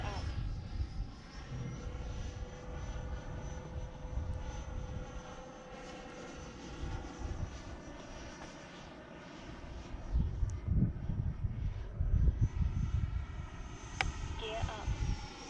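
A remote control EDF jet flies with a steady, high ducted-fan whine that swells and eases as it passes, heard from the ground with some talk alongside.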